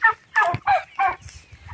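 Poultry calls from a coop of about fifty meat birds on a cold, rainy day: four loud, close, harsh bursts in quick succession with gobble-like warbling, then fainter calls trailing off, no talking.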